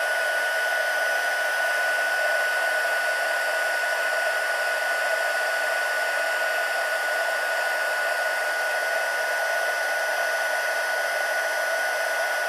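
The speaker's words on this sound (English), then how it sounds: "I'm going to bring in my heat gun and just heat it up" A heat gun blows steadily for a long stretch while warming embossing powder on white cardstock during a stamping craft project, a constant close, loud whooshing hiss with no pauses and no talk.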